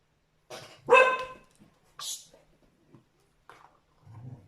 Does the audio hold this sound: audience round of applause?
no